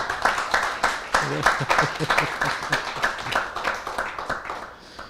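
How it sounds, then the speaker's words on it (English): Audience applause at a Srila Prabhupada appearance day festival, a burst of clapping and cheering voices with a speaker talking over it. "big round of applause to the"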